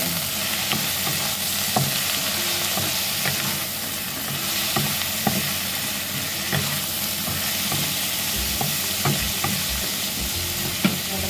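Tofu and kangkong stir-fried in a hot pan, a steady bright sizzle with intermittent scraping and clatter of a spatula tossing the greens, close and continuous.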